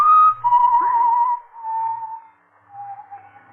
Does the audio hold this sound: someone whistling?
yes